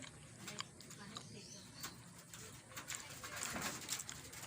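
Racing pigeons released at a derby, soft cooing mixed with light ticking and fluttering sounds, fairly faint, while a person talks over them.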